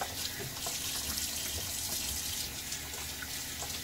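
Tap water runs steadily into a sink while hands are rinsed after a shave, a continuous close hiss with no talking.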